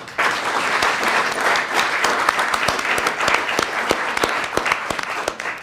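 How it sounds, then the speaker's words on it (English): A room full of people at an MLK Jr. scholarship fund reception gives a round of applause, a loud burst of many hands clapping with distinct individual claps standing out, fairly close and without speech. "How about a round of applause for that?"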